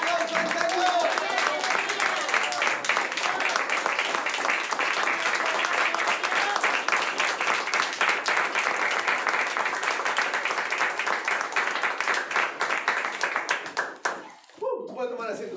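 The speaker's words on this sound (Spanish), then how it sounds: "Vamos a dar un fuerte aplauso al Señor." A church congregation gives a loud, sustained round of applause, with dense rhythmic clapping and some voices mixed in, before it abruptly dies away near the end.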